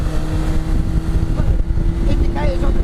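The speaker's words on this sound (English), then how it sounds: "Now the only downside is with a bike engine, and this is noise." A Yamaha R1 motorcycle engine fitted in an MK Indy RX5 car drones with a loud, steady tone as it drives, with someone talking over it.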